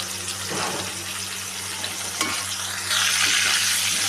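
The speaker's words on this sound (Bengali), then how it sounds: "এবার আমি এটাকে ভালো করে নাড়াচাড়া করে ভেজে নেব।" Potato and pumpkin with turmeric and salt are stirred and fried in a pan, with scraping strokes of a spoon over a steady sizzle and a low kitchen hum, the frying swelling louder near the end.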